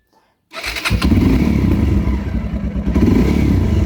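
A motorcycle engine cranks and catches after a short silence, then settles into a loud, rough, close idle with a clattering exhaust for a few seconds.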